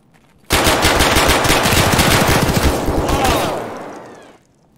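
Rapid automatic gunfire from guns in a mall shootout in a video game, a loud sustained burst of machine-gun fire that rattles on for about four seconds before tailing off.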